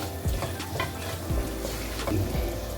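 A spoon scrapes repeatedly through potatoes with coriander powder in a frying pan, its rhythmic stirs riding over a continuous close sizzle.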